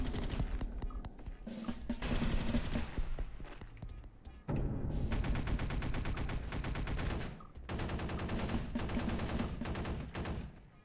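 In the Space Beast Terror Fright video game, an automated sentry gun fires long, loud bursts of rapid gunfire, pausing briefly between volleys.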